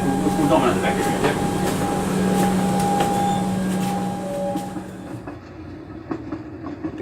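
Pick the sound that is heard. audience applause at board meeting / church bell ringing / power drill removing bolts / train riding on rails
train riding on rails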